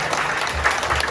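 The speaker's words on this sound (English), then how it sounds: "Give yourself a round of applause." An audience at a Type Thursday evening event at Dialog in downtown Phoenix claps in a short, dense burst of applause, steady and fairly loud from start to end.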